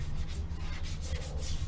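Steady rasping of sandpaper rubbed back and forth over a car grille, a close, continuous scratchy scrubbing with no talk.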